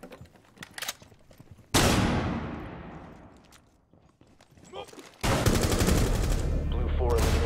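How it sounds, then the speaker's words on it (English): Loud shotgun blasts in Rainbow Six Siege terrorist hunt gameplay: one sharp boom with a long decaying tail, then a second heavy burst of gunfire later, with distant game chatter and effects between. "Shotgun."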